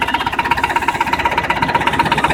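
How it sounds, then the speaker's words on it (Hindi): A Captain two-cylinder mini tractor engine idles steadily nearby with an even, thumping pulse and a slightly rattly tone, with no one talking. "बहुत अच्छा ट्रैक्टर है, बहुत प्यारी आवाज़ है, 2 सिलेंडर है"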